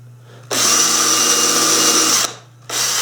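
A power drill enlarges a hole in wood for a battery-powered pepper grinder, running loud and steady for nearly two seconds, stopping briefly, then starting again, with a low hum throughout.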